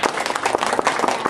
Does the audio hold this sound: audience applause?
yes